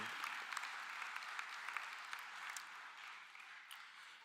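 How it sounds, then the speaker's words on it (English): Audience at an adult school graduation ceremony applauding in a steady, even wash of many hands clapping, moderately distant and fairly quiet, continuing without a break. "Let's give a round of applause to everyone who made it this far"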